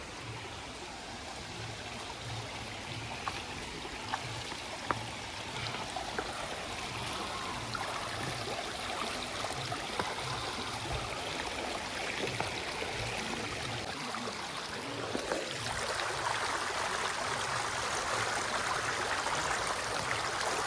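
A river rushes steadily over rocks on the Girnar forest pilgrimage trail near Junagadh, Gujarat, in a continuous, even roar that gets slightly louder toward the end, with no voices.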